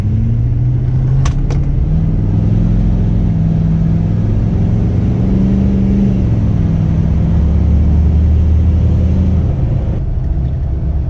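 A 2011 Ford F250 Lariat FX4 with a tuned 500 hp 6.7L Powerstroke diesel pulls hard under acceleration, a loud, steady low rumble with rising engine tones running throughout, heard from inside the truck with no talking.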